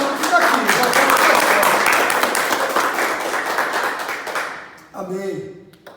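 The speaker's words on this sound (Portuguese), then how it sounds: "Aí dá um forte aplauso ao Senhor Jesus" A church congregation claps loudly for about five seconds in worship, dense applause fading out, then a voice speaks briefly at the end.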